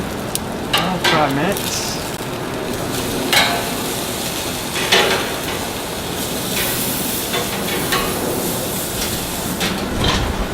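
USDA Prime New York strip steaks sizzle on a 450-degree grill with a steady close hiss and crackle. Several louder bursts mark the steaks being flipped, and someone speaks briefly.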